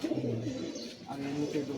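Low, rolling coos come from kaldoma pigeons held near at hand, a fancy patterned-tail breed, repeating in short bursts while people talk nearby.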